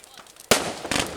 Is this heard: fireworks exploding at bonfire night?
yes